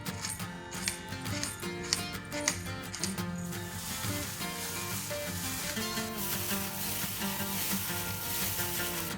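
Seasoned beef cubes, salted and peppered, sizzle steadily as they fry in a pan, a dense continuous crackle with light stirring noises and no talk.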